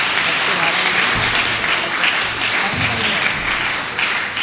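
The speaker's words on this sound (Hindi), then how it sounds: "अच्छे से बजाओ ताली यार" A live audience at a Hindi poetry recital claps loudly and steadily throughout, with voices mixed into the applause.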